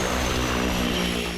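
Steady, loud propeller drone of the Merlin test plane flying under an AI piloting system, a continuous engine hum heard from inside the aircraft with no talk.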